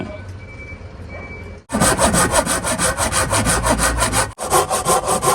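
A hand saw rasps steadily through a wooden fence post in quick back-and-forth strokes, loud and close, pausing briefly once before resuming.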